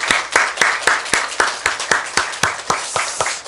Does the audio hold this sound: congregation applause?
yes